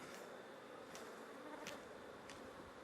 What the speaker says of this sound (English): So we'll shake the bees off.